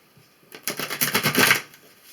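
Tarot and sacred medicine cards being shuffled, a short close riffle of dense papery flutter that swells and fades within about a second.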